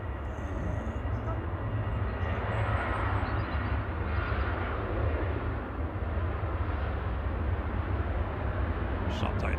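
A Ryanair airliner departing Liverpool sends out a loud, sustained, low-heavy engine roar that holds steady throughout, with people talking over it.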